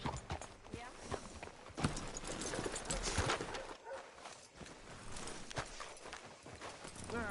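Horse hooves clip-clop at a walk on a road in the Red Dead Redemption 2 video game, a steady close rhythm of hoofbeats mixed with background game ambience and other noise.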